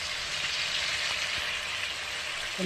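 Bhola fish sizzling in hot oil with spices in a pan, a steady, dense frying hiss that holds evenly from start to finish with no voices.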